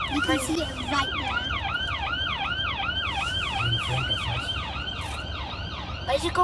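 An ambulance siren in slow city traffic, wailing in a fast repeating rising-and-falling pattern over engine rumble, fairly close and loud, with a brief horn-like burst near the start.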